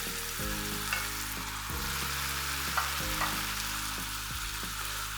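Pasta is tossed and stirred in a hot pan with vegetables and olives, a steady frying hiss under a low repeating hum, with faint scrapes and clinks of stirring.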